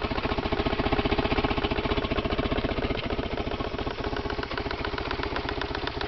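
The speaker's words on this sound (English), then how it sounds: "Can hear this throttle body." Car engine idling steadily up close, a dense rhythmic mechanical rumble with fine ticking from the throttle body, continuous and fairly loud throughout.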